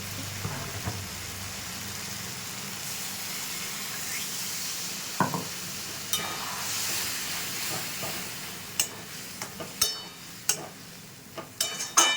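Bhindi masala (okra) sizzling and hissing steadily in a hot pan while it is stirred and a little water is poured in, with scattered scraping knocks toward the end.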